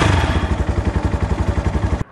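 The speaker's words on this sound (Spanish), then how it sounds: "el sonido del escape, porque desde bajas revoluciones se escucha como bastante ronco" An Italika SPTFIRE motorcycle exhaust at low revs gives a deep, throaty rumble with a fast, even pulsing beat, loud and close, cutting off abruptly at the end.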